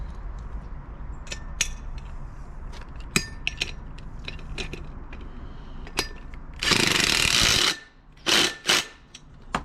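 Power tool or impact driver tightening half-inch lock-nut bolts while fitting new tires on a Mega Moto 244cc minibike, heard as a loud burst of rattling whirr followed by two short bursts, between scattered metallic clinks and taps.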